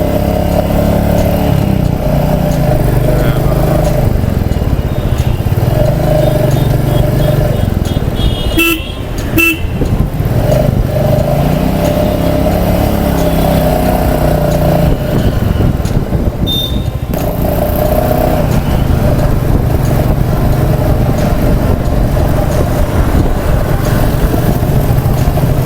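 Motorcycle setting off on a road ride toward Nainital, a loud steady engine drone with wind rush throughout and a couple of short horn toots partway through.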